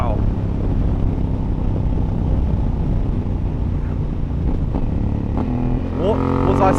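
A Honda Africa Twin motorcycle engine drones steadily while riding, with wind buffeting the microphone, and a rising rev near the end. A rider's voice is heard over it.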